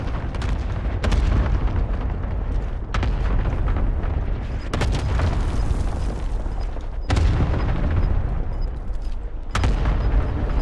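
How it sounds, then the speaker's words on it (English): Cluster strike explosions in Call of Duty Warzone, a run of heavy, loud booms landing in several separate blasts with rumbling gaps between them. "Enemy cluster strike! Watch your heads!"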